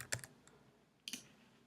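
Keys tapped on a Mac keyboard, two quick bursts of a few soft clicks each separated by a pause, close and quiet in a still room.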